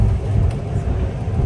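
A bus rolls along in Browns Bay, New Zealand, heard from a passenger seat as a steady low engine rumble and road noise, close and unbroken.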